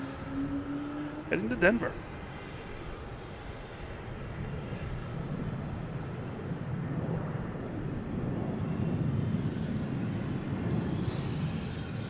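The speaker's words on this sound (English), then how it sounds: "We got United Airlines taking off here." United Airlines jet taking off from Boston Logan toward Denver, a faint, distant engine roar that slowly builds and holds under a person speaking briefly near the start.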